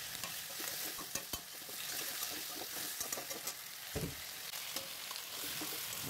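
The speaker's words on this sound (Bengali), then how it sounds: "এবার দিলাম চিকেনের পিস, ভালো করে মিশিয়ে দিলাম।" Chicken pieces fry with chopped ginger, garlic and ground black pepper in a pot, making a soft, even sizzle broken by a few stirring knocks, fairly quiet and with no talking.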